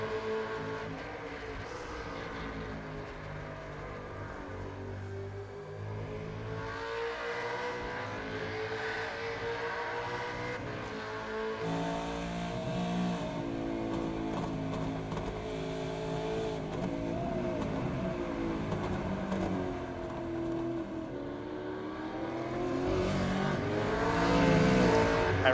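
A Supercars Championship race car at Canadian Motorsports Park holds a steady, droning engine note that rises and falls through shifts and builds louder as it accelerates out of a corner.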